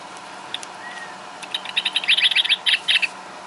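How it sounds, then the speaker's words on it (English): A motion-activated bird sound box from a bird feed store, set off in a room, plays a faint thin whistle followed by a rapid series of bright chirps and trills over a low room hum. "When you walk in front of it, it makes a bird sound."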